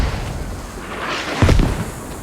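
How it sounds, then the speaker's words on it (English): Mortar shells exploding in the video game Squad, a heavy boom landing about midway after a stretch of low rumbling, loud and close, with no talking. "Mortars come down to Russians on Americans."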